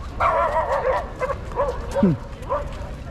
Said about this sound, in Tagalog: Ayun ang aso. Nag-aaway yung aso.